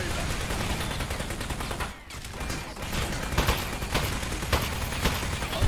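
Dense, continuous bursts of mechanical gun fire from a shooting toy in Aperture Desk Job, loud and rattling with brief gaps and sharper accented shots.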